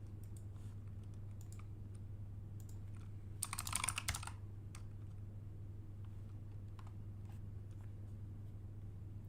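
A short burst of fast typing on a computer keyboard during a game development session, rattling for about a second over a steady, loud electrical hum.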